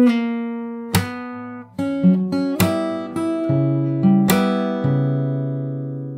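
Fingerstyle guitar plays a jazz standard passage, mixing plucked bass notes and ringing chords with sharp percussive slaps; several distinct hits and sustained chords follow one another in a steady rhythm, close and alone.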